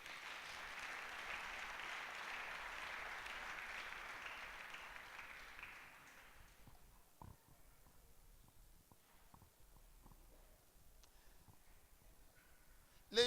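A church congregation claps and acclaims Jesus in a sustained wash of applause for about six seconds, then it drops away to a quiet room with scattered faint knocks and shuffles.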